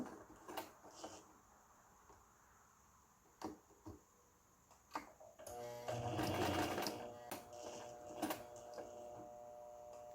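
A sewing machine stitches the pocket flap of a jumper, running in short bursts with a longer steady whir in the middle, separated by clicks and handling noises, close up and alone.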